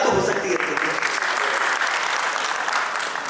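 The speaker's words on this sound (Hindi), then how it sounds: "मेरे ख्याल से एक ताली तो हो सकती है।" A conference audience breaks into applause, dense continuous clapping from a crowd that holds steady throughout and fades slightly at the close.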